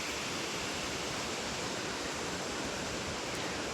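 A waterfall at a forest resort in Nantou, Taiwan pours steadily, a dense, even rush of falling water that fills the scene without pause and with no voices over it.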